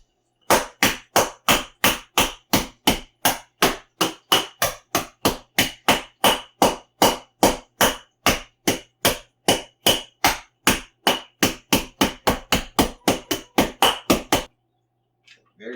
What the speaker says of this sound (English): I got some Hershey candy canes. Just gonna smash them in bits.